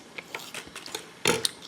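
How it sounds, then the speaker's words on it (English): Kitchen scissors snipping food during a Korean rice cake soup meal: a run of quick, close, crisp cuts spaced irregularly, ending in a louder cluster of snips. "then you just take the scissors and you cut like this"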